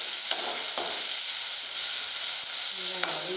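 Tomatoes frying with sautéed onions in a pan for veg masala idiyappam, a loud continuous sizzle with a few scraping stirs of the spoon, close and without talk.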